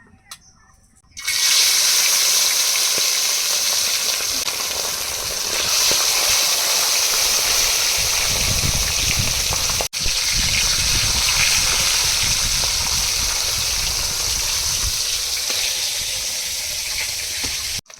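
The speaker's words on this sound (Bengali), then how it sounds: "তেল গরম হয়ে গেছে এবার মাছগুলো ভেজে নেব" Fish hits hot oil and sizzles hard for a Bengali fish curry, a sudden loud, sustained frying hiss that starts after about a second of near quiet and holds steady throughout.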